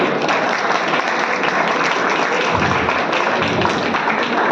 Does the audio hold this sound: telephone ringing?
no